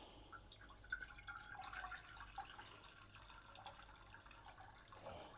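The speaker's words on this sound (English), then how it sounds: "So I'm gonna add some water." Water added from a tap into a cooking pot holding chicken, a steady close trickle and splash with faint drips running throughout, no talk.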